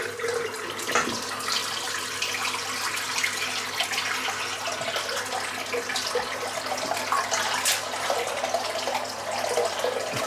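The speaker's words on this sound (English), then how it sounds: "I rinse off the razor in the warm water. And fill the sink back up" A Schick Proline P30 razor gets rinsed under warm running tap water in a sink, a continuous close rushing splash with faint clicks and knocks of the razor throughout.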